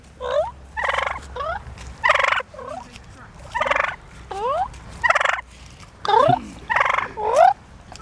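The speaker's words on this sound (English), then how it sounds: "El Michelle is making friends with turkeys" Turkeys at Lincoln Park Zoo in Manitowoc, Wisconsin gobble repeatedly, about eight loud rattling bursts in quick succession close by, with short pauses between calls.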